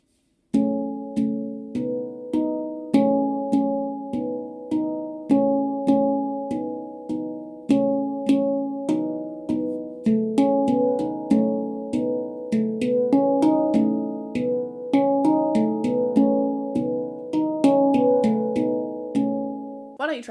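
A handpan, a steel RAV-style tongue drum, is struck two notes at a time in a slow, steady pattern of overlapping ringing tones, each pair sounding cleanly and fading before the next. Each stroke rings with a bright metallic attack and warm sustain, heard alone without talk.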